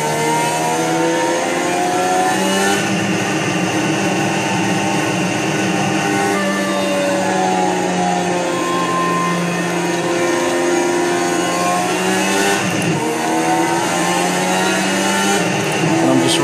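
Race car engine in a racing video game revving steadily and holding against the rev limiter, a loud continuous buzzing drone with slight pitch wobble throughout.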